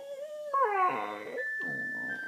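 A beagle lets out a wavering, whimpering howl alongside a steady sustained electric keyboard tone, rising and falling in pitch.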